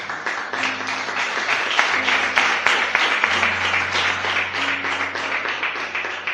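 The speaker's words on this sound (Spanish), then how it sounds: "Aplaude a Dios en esta mañana." A church congregation applauds at a Sunday morning service, steady, full-room clapping sustained throughout, with sustained tones from instruments or voices underneath.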